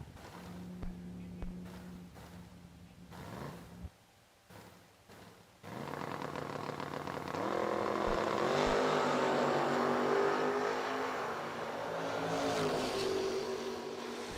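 Drag racing cars launch side by side down the lanes at World Wide Technology Raceway, a loud sustained engine roar building after a few quieter bursts and holding steady to the end.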